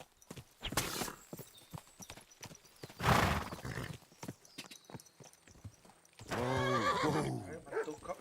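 Horse hooves clip-clop in a steady rhythm in a video game, then a loud neigh rises near the end, with game sound effects and brief voices scattered throughout.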